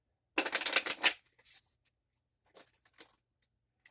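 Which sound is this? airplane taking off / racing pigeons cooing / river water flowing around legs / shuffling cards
shuffling cards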